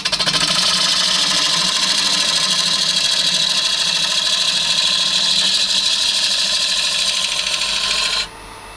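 A wood lathe turns an olive ash bowl, giving a loud, steady high-pitched whirring hiss of tool against spinning wood that runs continuously before dropping abruptly near the end.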